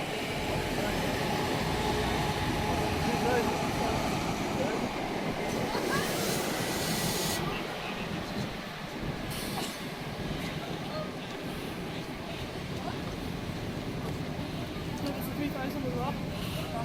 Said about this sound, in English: here we're getting our train coming in now.